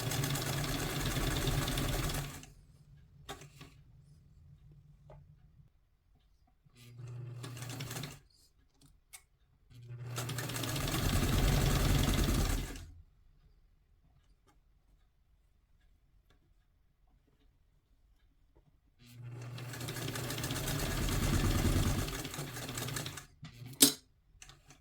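A sewing machine stitches a two-piece collar in bursts of steady rapid mechanical whirring, several seconds each, separated by quiet pauses, close and fairly loud.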